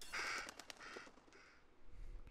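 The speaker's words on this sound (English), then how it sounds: "Oh, hello, bird." In the Little Hope horror video game, a bird gives a harsh, crow-like caw that starts strong and trails off, fairly faint against a quiet ambient background.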